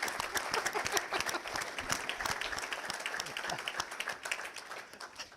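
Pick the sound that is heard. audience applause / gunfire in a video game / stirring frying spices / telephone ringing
audience applause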